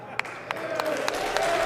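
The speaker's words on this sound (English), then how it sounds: "The clapping." Slow, evenly spaced hand claps, about six in under two seconds, with a voice and room noise running beneath them.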